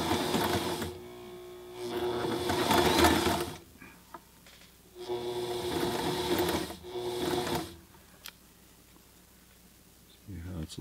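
A Sailrite Ultrafeed LSZ1 sewing machine stitches fabric in three sustained, loud mechanical runs, each lasting a couple of seconds, separated by quiet pauses and a few small clicks.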